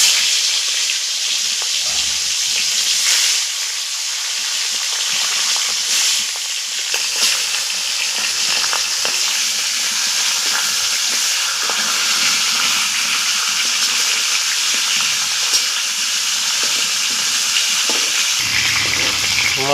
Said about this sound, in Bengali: তেলটা গরম হয়ে গেছে, এবার আমি মাথাগুলো ছেড়ে দিই।